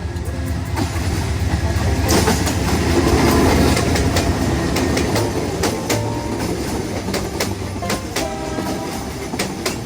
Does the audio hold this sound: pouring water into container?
no